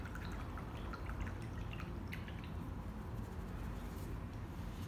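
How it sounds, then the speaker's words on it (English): An acrylic paintbrush swished and rinsed in a water cup gives soft, close drips and splashy trickles over a steady low background, faint and without talk. "Wash your brush out."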